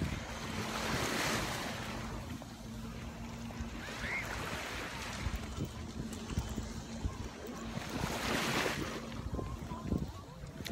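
Sea waves wash onto Nhơn Lý beach in surging, rolling swells under steady wind noise. The surf is fairly loud and continuous, with the breaks building and fading over several seconds.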